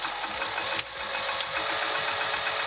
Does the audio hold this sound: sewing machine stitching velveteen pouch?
yes